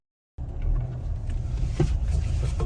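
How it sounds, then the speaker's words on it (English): A car on a road test after gearbox servicing, heard from inside as a steady low engine and road rumble that starts abruptly and holds constant with no talk. "we're gonna go for a test drive with the owner"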